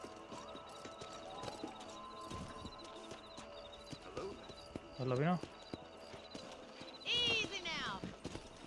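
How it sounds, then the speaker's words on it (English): A horse's hooves clip-clop steadily in Red Dead Redemption while it is ridden around a ranch, with a couple of whinnies, under spoken dialogue and game music. "Mount your horse."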